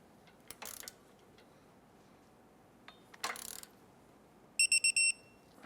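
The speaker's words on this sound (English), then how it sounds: "Let's go ahead and torque this heat shield bolt down to 18 foot-pounds" A torque wrench tightens a heat shield bolt to 18 foot-pounds on a 2015-2020 Cadillac Escalade during knock sensor work. Two short ratcheting bursts come first, then a quick run of four sharp, high electronic beeps close by.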